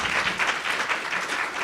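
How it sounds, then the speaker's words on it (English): A crowd at a gathering of Pakistani social activists gives a round of applause: dense, loud clapping from many people, continuous with slight pulsing swells throughout. "Give them a big round of applause."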